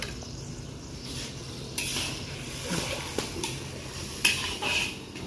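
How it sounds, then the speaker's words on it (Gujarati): Tomatoes being mashed in a pan over medium heat with turmeric, salt, ginger, garlic and chilli, giving soft scraping and clinking of a utensil against the pan, a few sharper clinks standing out over a steady low cooking background. "મીડિયમ તાપમાં ટમેટા ચોળવી લઈ."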